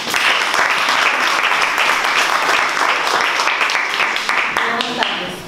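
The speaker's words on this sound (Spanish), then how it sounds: "con un fuerte aplauso." A loud, sustained round of applause fills a cultural association gathering in Palma as a Colombian journalist is welcomed, dense clapping holding steady throughout with a slight swell near the end.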